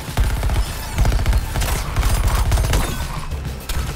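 Rapid automatic gunfire in Suicide Squad: Kill the Justice League, a dense, loud fusillade of overlapping shots rattling continuously throughout with booming low-end thumps.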